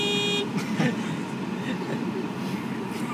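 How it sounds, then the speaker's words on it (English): A car horn sounds a short toot near the start, with steady traffic and engine rumble continuing underneath. "My manly horn here."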